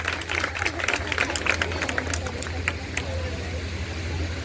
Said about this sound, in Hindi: सब बच्चे अपने लिए भी बजा लें।